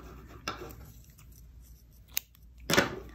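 Scissors snip doubled sewing thread, a couple of short, close crisp cuts with a brief clink between them in an otherwise quiet room.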